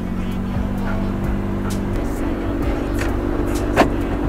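A 2012 Maruti Alto with a 1000cc A-series engine runs with a steady low hum and a constant drone. Faint scattered clicks sit over the even engine note.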